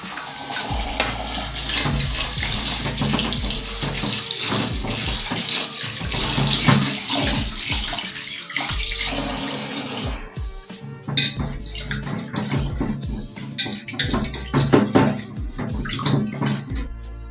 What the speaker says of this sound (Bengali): এবার আমি চালটাকে ধোবো।